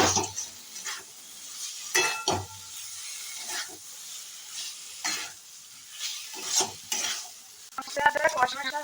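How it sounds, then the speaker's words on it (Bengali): Large potato pieces frying with spices in a pan, a low hiss punctuated by repeated bursts of stirring and spatula scrapes against the pan, close and intermittent, with no speech. "আমি এটা ভাজা ভাজা হতে দিয়ে দিয়েছি মশলার সঙ্গে"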